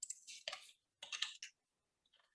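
Bursts of rapid clicking on a computer keyboard, two quick typing runs followed by a few faint taps, close and crisp with quiet gaps and no talking.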